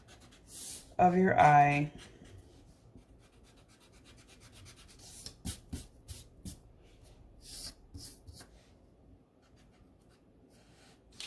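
Pencil drawing being erased with an eraser, a short loud burst of rubbing strokes near the start, then quieter scattered scratching under a voice talking.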